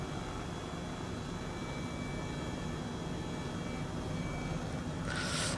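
Helicopter flying in Flight Simulator 2020 over the Zandvoort circuit gives off a constant dense, loud rotor and engine roar that stays steady and unbroken throughout.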